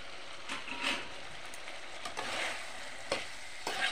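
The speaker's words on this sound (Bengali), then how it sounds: "নাড়াচাড়া করে এখন ভেজে রাখা চিকেনগুলো দিয়ে দেবো।" Fried chicken pieces stirred and sizzling in a pan while cooking chicken chilli rice, with steady frying hiss and intermittent scraping stirs, close and moderately loud, no talking.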